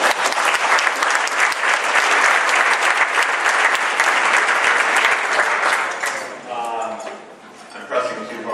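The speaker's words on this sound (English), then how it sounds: "So another round of applause for Robert Kirkman." Applause from the crowd at the 2012 ComicsPRO industry appreciation awards, loud and steady for about six seconds before fading into scattered claps as someone starts talking.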